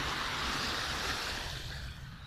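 Salty sea water and waves wash and roar steadily, close and loud, fading slightly toward the end, with no voices.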